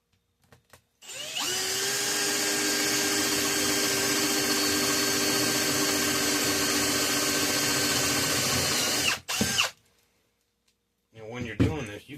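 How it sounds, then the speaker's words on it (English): A power drill bores a hole through an aluminum bus bar for a homemade LiFePO4 solar battery bank, one loud steady whine held for about eight seconds at close range, then cutting off, followed by a brief voice. "Drill another hole."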